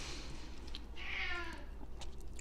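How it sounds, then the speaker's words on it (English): A single drawn-out house cat meow rises faintly over low background hum, brief and moderately near. "my cat is always meowing as soon as I start talking on this"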